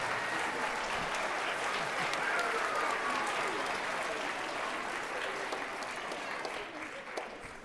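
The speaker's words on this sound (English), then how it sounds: "So how about a nice round of applause for our parapros?" Steady applause from a school band concert audience fills the whole clip, dense and continuous, tapering slightly toward the end.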